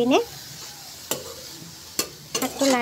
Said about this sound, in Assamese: এতিয়া এইটো মই শাকটো লাৰি